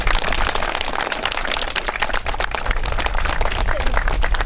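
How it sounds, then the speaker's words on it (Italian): Outdoor crowd at a Santa Barbara procession in Bacu Abis applauding the deceased martyrs, steady dense clapping from many hands, loud and continuous throughout. "un applauso per i nostri cari defunti martiri"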